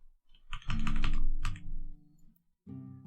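Computer keyboard typing during digital map making for a tabletop role-playing game, a few bursts of clicking keys close by, with a pause between flurries and no talking.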